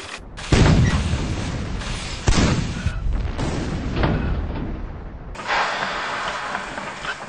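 Cannons fire in the Clockwork Cannons video game: four or five heavy booms land one after another over a constant loud rumble, each blast bursting out and then rolling away.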